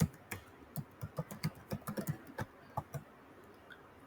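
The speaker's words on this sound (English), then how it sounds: "So you type an email ID." Keys on a computer keyboard are tapped out for an email ID in a quiet room, giving about twenty close, crisp clicks in an uneven rhythm with short pauses between bursts.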